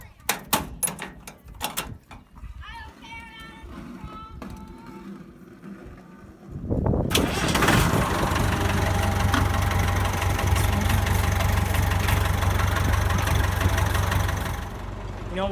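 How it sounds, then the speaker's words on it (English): A farm tractor being started to warm up before hauling manure: a few clicks and clunks, then the engine catches and settles into a loud, steady idle with a low rumble that continues to the end. "I need to turn on the tractor here,"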